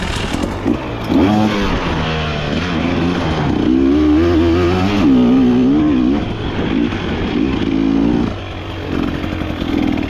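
A KTM motorcycle ridden off-road on a trail ride, its engine revving and pulling steadily close by, rising and falling with throttle changes throughout with no talking.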